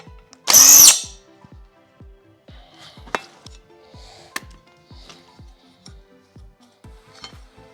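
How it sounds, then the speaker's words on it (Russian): A power drill bores into a metal bracket for a Sprinter 4x4 camper build: a loud, close high whine lasting about half a second, followed by light metallic clinks and taps. "И опять сверлим."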